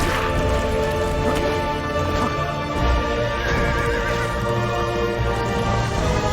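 A horse in the video game Castlevania: Lords of Shadow whinnies and snorts over clip-clopping hooves, with steady game ambience and occasional thuds behind it, no talk.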